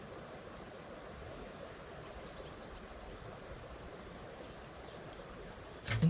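River rapids rushing in a steady, distant, broadband wash of moving water on a safari river where a crocodile hauls its prey, constant and low, with a brief louder knock at the very end.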